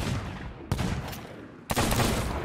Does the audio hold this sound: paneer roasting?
no